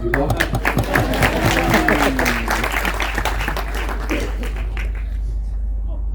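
Steady applause from an audience at a film festival masterclass, loud and continuous for several seconds before thinning out, with voices mixed in beneath it.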